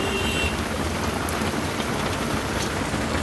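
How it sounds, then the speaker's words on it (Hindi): Heavy rain pours down outdoors in a dense, continuous hiss of drops striking surfaces, loud and steady throughout with no voices. "आज बाहर आई तो बहुत ज़ोर से बारिश हो रही है।"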